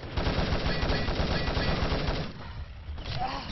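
Sustained automatic gunfire sprays in an Italy versus Spain online shooter match, a loud, nearly continuous rattling stream of rapid shots that thins slightly near the end.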